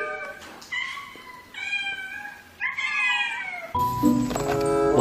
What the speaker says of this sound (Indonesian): Wih, kucing.